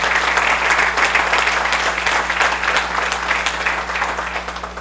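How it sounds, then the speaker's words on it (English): A roomful of Rotary club members in Cincinnati gives a round of applause, dense and steady clapping sustained for several seconds over a constant low electrical hum. "let's have a round of applause for our club"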